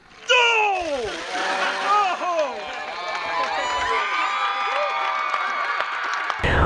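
Cold water dumped over more than 400 staff and students outside a high school for a charity challenge, with a big splash up front followed by a loud cheering, shouting crowd and shrieking voices throughout.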